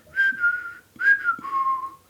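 Someone whistles two short, clear tones in succession, each gliding slightly downward, heard close and alone against near silence.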